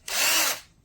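Pink DEKOPRO 12V cordless power drill running unloaded in one short, even whir that spins up quickly and winds down, close by.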